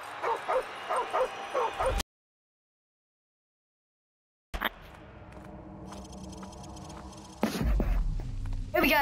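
A small dog yips and barks in a quick series in Call of Duty: Modern Warfare Remastered, followed by a silent gap and then steady background game sounds.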